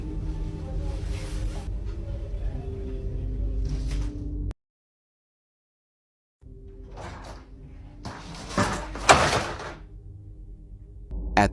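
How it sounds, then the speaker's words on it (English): A laundry room door is torn off its hinges and thrown to the floor indoors. Low rumbling gives way to a dead-silent gap, then rattling and loud, close clattering crashes. "the laundry room door completely ripped off its hinges and was thrown to the floor"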